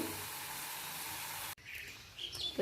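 Potatoes frying in a pan in a home kitchen give a steady, quiet sizzle that breaks off partway, followed by faint clinks and soft stirring sounds.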